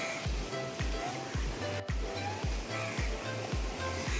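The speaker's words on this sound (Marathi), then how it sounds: "समुद्राचा खलखलाट" Sea waves surge and wash against the shore in a steady roar, with repeated low thumps like wind buffeting close by.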